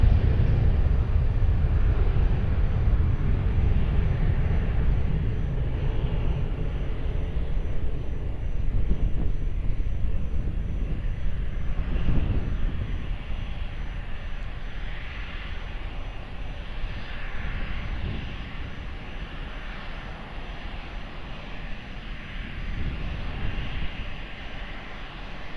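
An airliner's engines roar strongly on its takeoff run from runway 20 at Lisbon Airport, loud at first and then slowly fading as it climbs away, with gusts of wind buffeting the microphone and no talk.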